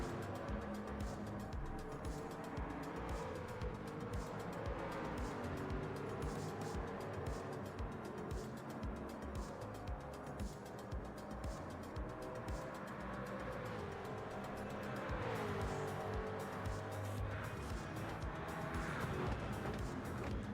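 Race cars from Gran Turismo 7 sweep through the Porsche Curves at Le Mans, a steady dense engine roar with rising and falling pitch sustained throughout, loud and continuous with no talk.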